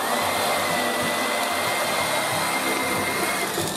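A coconut ice cream mixture with sweetened condensed milk is whisked vigorously, giving a loud, continuous, dense whirring rush with no pauses and no talking.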